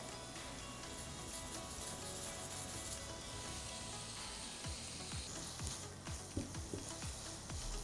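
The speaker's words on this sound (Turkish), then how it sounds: "Şöyle pancar ve havucum sotelendi." Carrots and beets sauté in a pan with a quiet, continuous sizzle, and a few light stirring scrapes come through toward the end.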